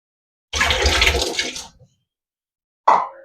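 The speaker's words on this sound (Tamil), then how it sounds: "இந்த பைத்தம்பருப்பை நல்லா வாஷ் பண்ணிடலாம்" Moong dal being rinsed in water, a sloshing, splashing wash for about a second, then a short separate splash after a pause, close and fairly loud with no talking.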